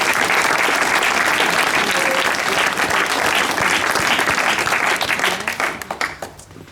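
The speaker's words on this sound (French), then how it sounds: "Donc on applaudit bien fort les giroleux" Loud, sustained applause from an audience of around 35 people thanking the technicians after an outdoor theatrical walk in Gerpinnes, steady dense clapping that thins out into scattered claps over the final seconds.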